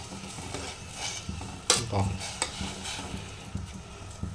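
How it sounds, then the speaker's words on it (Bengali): Spiced masala tea bubbling in a pot while a spoon stirs it, with soft clinks and scrapes against the metal over a low simmering hiss. "যে জলটা দিলে সেটা পুরো সময় একটু করে নাড়তে হবে"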